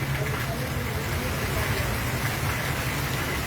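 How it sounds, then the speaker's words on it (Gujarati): Heavy monsoon rain pours down over Jetpur, a dense, steady hiss of drops that stays constant throughout, with no distinct thunderclap standing out. "ગાજવીજ સાથે વરસાદ વરસી રહ્યો છે"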